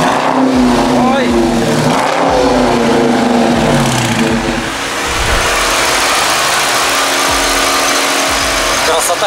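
A loud car engine starts for the first time and runs close by, revving up and down, with voices talking over the rough mechanical roar.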